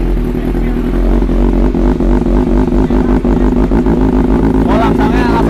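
A Kawasaki ZX636 sport motorcycle, freshly started with its oil not yet warmed, runs loud and close in a steady, throbbing idle with slight surges, while voices talk over it.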